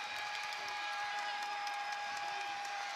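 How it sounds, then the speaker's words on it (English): Crowd noise at a college men's basketball game, New Mexico State at Loyola Marymount, a steady dense roar of cheering and clapping filling the arena at moderate distance, without a break. "Crowd getting into it"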